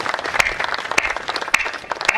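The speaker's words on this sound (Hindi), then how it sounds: "अब तालियां होनी चाहिए" An audience at a Hindi comedy poetry show breaks into lively clapping, with sharp individual claps standing out over the crowd's steady applause and a voice speaking through it.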